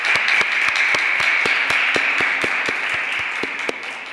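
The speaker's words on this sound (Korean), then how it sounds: "모두를 위해서 한번 큰 박수 부탁드리겠습니다." An audience at a Korean young adults' and university students' worship service claps, giving steady, fairly loud applause with crisp individual claps that tapers slightly toward the end.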